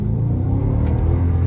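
A Chrysler 300 fitted with a Flowmaster Super 40 muffler and Carven 5-inch exhaust tips revs hard, giving a loud, continuous, deep exhaust rumble with a rising and falling growl close by and no voices.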